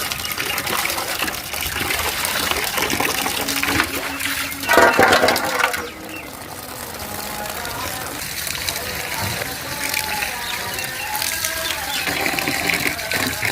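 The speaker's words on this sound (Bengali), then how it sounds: "কচু শাকগুলো আমার ধোয়া হয়ে গেছে" Taro leaves are washed in water, with sloshing and gushing close by, a louder splash partway through, and a voice talking over parts of it.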